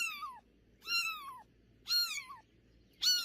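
A kitten meows four times, each a clear, high, falling cry with short pauses in between, close and alone.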